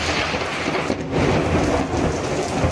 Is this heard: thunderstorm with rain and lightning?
yes